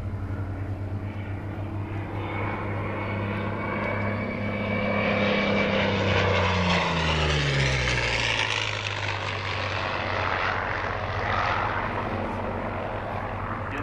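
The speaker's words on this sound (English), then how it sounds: "Lining up for another attacking pass, the Curtis" Curtiss P-40 Kittyhawk fighter making an attacking pass, its piston engine droning loudly and swelling as it sweeps past, with a falling pitch as the plane draws away; no one speaks over it.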